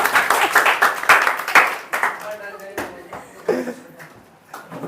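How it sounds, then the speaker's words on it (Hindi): A classroom of students claps in uneven, scattered bursts of hand claps that gradually thin out, with voices mixed in. "बस ताली बजा दो ना, ऐसे बजा दो क्या होगा।"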